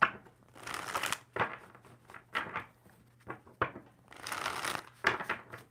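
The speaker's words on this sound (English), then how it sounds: "Two more shuffles?" Tarot cards are shuffled in several quick riffling bursts with short pauses between them, close and fairly quiet.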